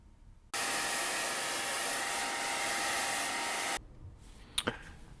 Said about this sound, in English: the rest I do with with an hair dryer